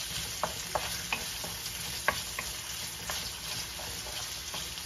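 Chopped onion sizzles steadily in hot oil in a pan while jackfruit and pork belly are cooked in coconut cream, with sharp clicks of a utensil stirring and scraping at irregular moments.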